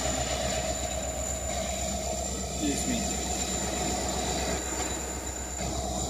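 The rear DPU locomotive of a freight train rolls past on a cold morning, a close, steady engine drone and rail rumble with a brief wheel squeal; a voice speaks briefly.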